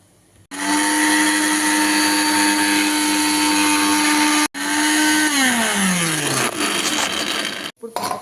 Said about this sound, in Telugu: ఈ కొత్తిమీర కొద్దిగా నేను మిక్సీ పెట్టుకుంటాను